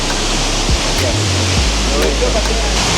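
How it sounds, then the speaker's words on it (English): Steady, dense rushing water of the huge Arusha Waterfall, fed from Mount Meru in Arusha National Park, Tanzania, roars without a break, a thick wall of noise close by with a brief low thump partway through. "So this waterfall behind me comes from Mount Meru, and it's huge."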